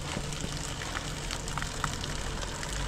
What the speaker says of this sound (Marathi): पाऊस, उन्हाळ्यात पाऊस पडतो इथं केदारनाथला.